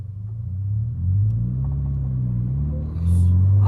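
A Subaru BRZ engine holds a steady, loud low rumble that swells slightly around the midpoint and again near the end, as if revving up for a burnout attempt.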